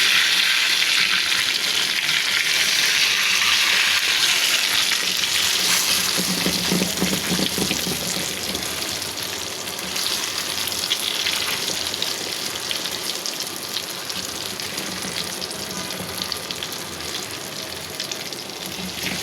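Eggplant slices frying in oil, a close, continuous sizzle and bubbling hiss with occasional stirring and movement sounds over about twenty seconds, no voices.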